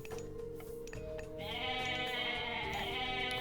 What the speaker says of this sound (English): I'll wait for these goats to fatten up.